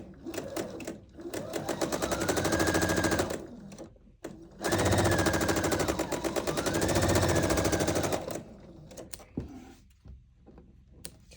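A sewing machine stitches a triangle seam on a quilt block in two loud, close, rapid bursts separated by a short pause, then trails off into quieter handling noises.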